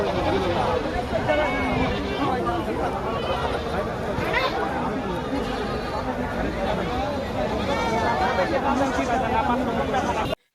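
Goats bleat over and over at a goat market in Bera, Pabna, amid a busy crowd, with constant chatter and talking surrounding the animal calls.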